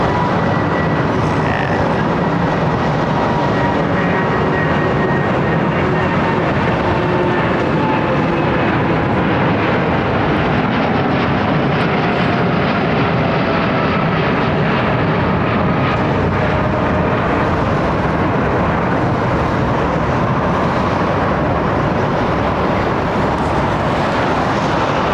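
An Airbus A380 departs Heathrow runway 09R and passes overhead, a loud, sustained jet engine roar that builds and rolls on for the whole stretch with no voices over it.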